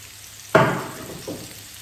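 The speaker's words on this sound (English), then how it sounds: "so I'm frying my first ingredient, mostly in the center" A sudden loud sizzle as vegetables for paella hit a hot pan, fading into steady frying, with a smaller crackle shortly after.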